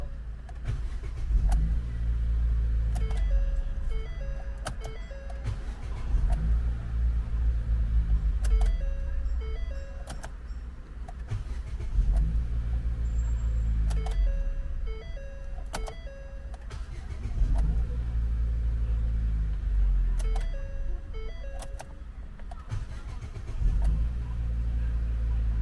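A Ford car engine idles steadily with a cold engine and the air conditioning on, after twenty to thirty repeated starts. A deep, even rumble holds close and loud throughout, with faint repeating electronic tones above it.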